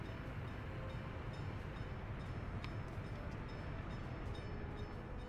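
Steady rail rumble from trains in the Workers and Resources video game, a continuous low mechanical drone with faint high ticks, one brief sharp click near the middle.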